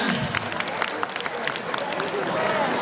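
An audience claps and cheers at an Isra Mi'raj religious gathering, a dense wash of applause with crowd noise and a voice talking over it.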